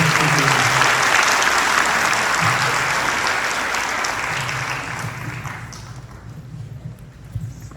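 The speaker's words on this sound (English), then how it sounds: "So let's give him a round of applause." An audience at a talk with a San Diego FC coach breaks into a round of applause, loud and dense at first, then slowly thinning and fading toward the end, with a few last claps trailing off.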